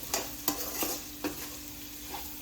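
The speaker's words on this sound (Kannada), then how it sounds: "ಇದು ಚೆನ್ನಾಗಿ ಫ್ರೈ ಆಗೈತೆ" Bitter gourd frying in a pan, a faint continuous sizzle with a handful of crisp scraping stirs at irregular intervals, close and without voices.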